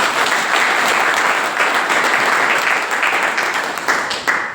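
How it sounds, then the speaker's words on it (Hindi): Loud, sustained audience applause at an agricultural gathering in Rajasthan, dense and continuous before easing slightly toward the end. "तालियां बजनी चाहिए जोर से"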